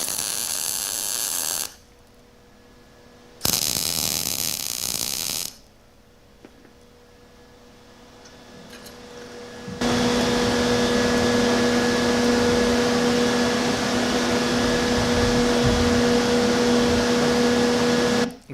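Welding a vertical seam on galvanized steel: two short harsh bursts of arc noise, a quieter gap, then a long, steady, loud crackling buzz that runs to the end without any talk.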